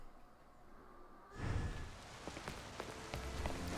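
Rain begins in the video game Pokemon Legends: Z-A, cutting in abruptly after a quiet stretch and then hissing steadily with scattered pattering drops, moderately loud and close.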